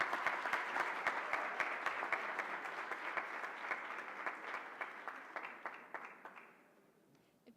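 Audience applause greeting the speaker at Guttman Community College's convocation, a steady wash of many clapping hands from a large crowd that holds for several seconds, then thins and fades out toward the end.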